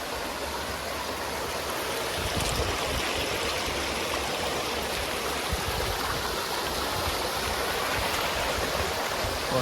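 The Ubbalamadugu waterfall roars in a continuous, dense rush of falling water, steady and close with no pauses.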